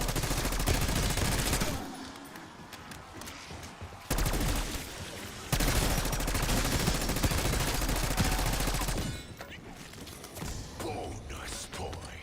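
Rapid automatic gunfire from a gun in the video game Black Ops 6 sounds in loud sustained bursts, broken by short pauses and a quieter stretch near the end.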